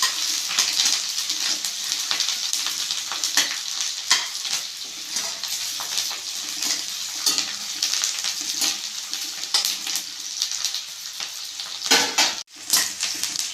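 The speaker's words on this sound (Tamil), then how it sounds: "நல்லா வதங்கட்டும்" Onions with curry leaves sauté in a pan for brinjal and drumstick kara kuzhambu, a continuous close sizzle broken by frequent spatula scrapes and metal clinks against the pan, one louder knock near the end, without speech.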